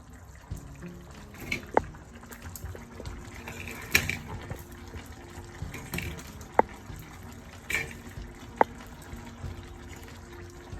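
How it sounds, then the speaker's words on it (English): Rice noodles for pancit bihon are dropped as chunks into simmering broth, making soft splashing and watery trickles with a few sharp clinks of utensils against the pot, under a steady low bubbling with no talk. "Now we start adding in the noodles"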